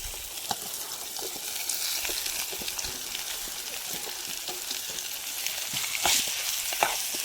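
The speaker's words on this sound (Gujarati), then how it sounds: "આપણે વઘારમાં જ કાંદા અને લસણ ને બંનેને પકાવી દેવાનું છે" Onion and garlic fry in a hot oil tempering for handvo, making a steady, fairly loud sizzle with scattered pops and occasional stirring scrapes throughout.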